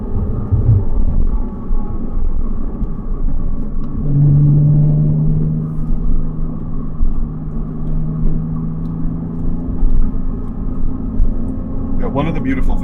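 Porsche 987 Cayman S with a Revs Sport exhaust driving, a steady close engine drone and road rumble with a brief rising rev, heard from inside the car.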